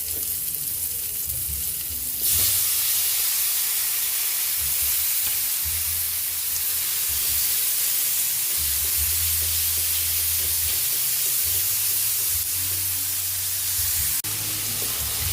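Chopped tomatoes go into a hot pan of sautéing garlic and onion for mung bean soup with pork ribs, and a loud, steady sizzle rises sharply and continues close up without pause.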